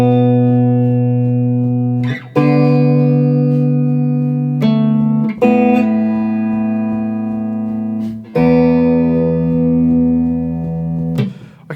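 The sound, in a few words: guitar playing verse of a song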